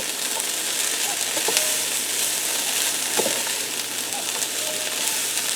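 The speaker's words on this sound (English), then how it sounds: "And I'm just going to give that a stir to get them mixed into the carrots" Broccoli florets and carrots sizzle loudly in a hot pan for a chicken and vegetable stir fry, a steady bright crackle with a few faint scrapes of stirring.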